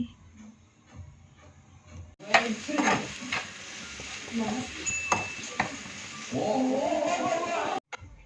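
Tender tamarind leaves fry with chilli powder in a pan, a steady sizzle broken by scraping stirs and brief pan knocks, close and moderately loud, with a faint voice heard briefly near the start.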